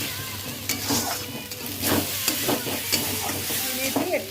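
Spice paste of turmeric, chilli powder, onion, tomato and garlic frying in a pan for a spicy fish curry, with steady sizzle and repeated scraping strokes of a spatula stirring close by.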